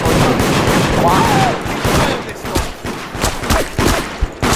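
Shotgun fire in the multiplayer video game Deceit: a dense stretch of loud, rapid gunshots and bursts, with several players shouting over the shooting.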